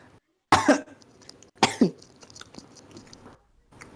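Two sharp, loud coughs close together, separated by a short pause, followed by quieter rustling and small movement sounds.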